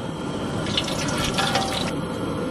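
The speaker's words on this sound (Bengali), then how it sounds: "নিয়ে নিলাম সরিষার তেল, তেজপাতা," Mustard oil pours into a pan in a steady, close, fairly loud stream lasting about a second, set against a constant background hiss.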